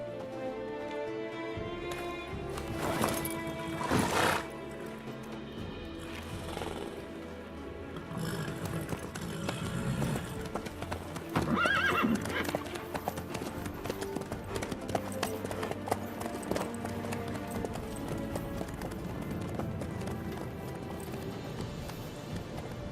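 A horse gallops in The Witcher III, its rapid clip-clop hoofbeats running steadily through the scene under a busy layer of game music and ambience, with no voices over it.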